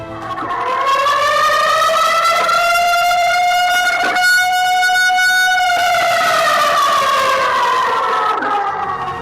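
A loud disaster warning siren wails, its tone rising and then slowly falling in one long sweep, sounding alone without voices.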